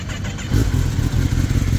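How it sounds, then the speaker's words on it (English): A 2024 Kawasaki ZX10R inline-four fitted with an Akrapovic slip-on exhaust fires up, a brief cranking giving way to a loud, close, throbbing idle within two seconds. "let's crank it up and see how it sounds like."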